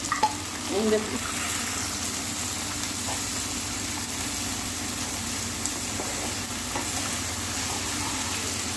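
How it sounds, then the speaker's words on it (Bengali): Finely chopped onions frying in a pan on a high gas flame with whole spices, a steady broadband sizzle running throughout at even loudness with a few small pops near the start. "এবার এটা হাই ফ্লেমে দু মিনিট ধরে ভাজা হবে"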